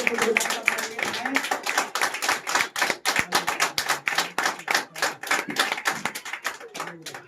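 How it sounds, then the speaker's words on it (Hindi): A church congregation at a prayer meeting claps loudly in welcome, a dense, fast stream of overlapping claps that runs steadily for about seven seconds with a few voices mixed in. "ये तो कमी जोर से ताली बजाएंगे।"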